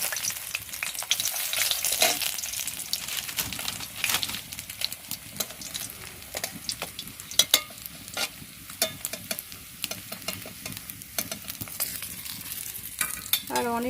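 Fish fries in oil with a steady, crackling sizzle, broken by frequent close scrapes and taps of a utensil in the pan.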